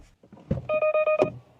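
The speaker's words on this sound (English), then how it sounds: "as you can hear, there is a blind spot monitoring system notifying you in case there is a car or the cyclist or something else" Blind spot monitoring warning chime inside a 2026 VW T-Roc R-Line: four short, evenly spaced electronic beeps, clear and close, after a brief soft rustle.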